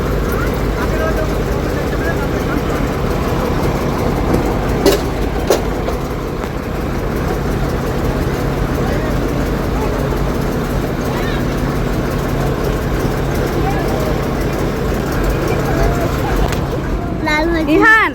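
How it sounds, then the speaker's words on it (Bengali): A passenger launch on a river in the Sundarbans gives a loud, continuous low engine drone and rumble that lasts throughout, with voices talking over it. "এই দেখো আমাদের সামনে একটা লঞ্চ এসে গেছে"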